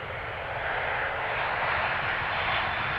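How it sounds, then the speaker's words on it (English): KLM Boeing 787 Dreamliner in 100-years livery arriving at Schiphol from Austin, a steady, moderately loud jet engine rumble and hiss holding evenly throughout. "we have the KLM Dreamliner in 100 years livery coming in from Austin, Texas"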